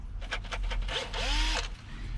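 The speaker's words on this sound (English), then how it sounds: "So basically I'm just going to drill a whole bunch of pilot holes" A power drill fitted with a hole saw bores pilot holes while mounting a power panel in an OBS Chevrolet Blazer, several short whirring bursts followed by a longer, louder grinding run, close by with no talking.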